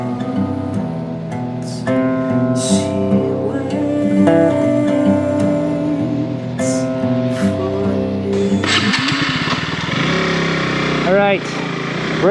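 KTM RC 200 single-cylinder 200cc sport motorcycle engine drones steadily with a rising and falling pitch, carrying under nearly continuous close talk, with a louder, rougher rev near the end.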